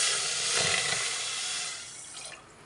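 Water pours steadily into a pot with a bright rushing splash as sugar syrup for gulab jamun is started, then tapers off near the end.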